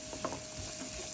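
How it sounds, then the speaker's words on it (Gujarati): Three large chopped onions fry in hot oil while a spoon stirs them, a close dense sizzle with light scraping, brief and steady. "હવે આપણે એને નાખી દઈશું. અને એને બરાબર રીતે મિક્સ કરી દઈશું."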